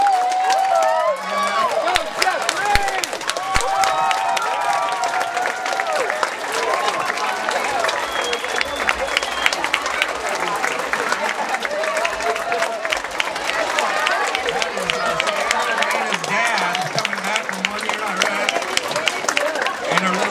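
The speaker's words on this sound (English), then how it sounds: "I would love for us to give him a big round of applause" A standing audience of students breaks into sustained applause with scattered cheering to welcome a father home from Iraq, dense and steady throughout with crowd voices mixed in.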